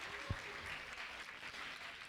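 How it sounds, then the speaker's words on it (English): An audience applauds the city of Sedona at an awards ceremony, a steady wash of many hands clapping that holds evenly throughout, with no voices standing out above it. "Nice round of applause for the city of Sedona"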